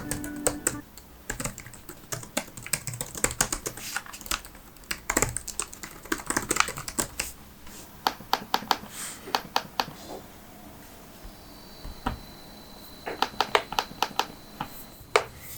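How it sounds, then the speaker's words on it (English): Fingers type on the keyboard of an Aftershock APEX 17R Lite laptop, close and crisp, in irregular bursts of clicky keystrokes with short pauses and a few isolated taps. "So here is some ASMR keyboard clicks."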